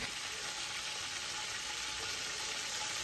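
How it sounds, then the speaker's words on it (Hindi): Cumin seeds sizzle in hot oil in a pan as plain rice is started, a steady, dense crackling hiss that stays even and close throughout with no talking. "इसमें तेल डाला और तेल के अंदर 1 चम्मच ज़ीरा डाला"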